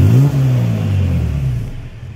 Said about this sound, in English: I just installed this Magna Flow Overland exhaust on Alex's truck.